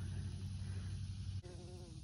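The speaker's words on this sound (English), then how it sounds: "That little bee, look at all the pollen on that bee." A bee works flowering Thai basil in a homestead garden, giving a faint low buzz over steady outdoor background hum, with its pitch shifting briefly near the end.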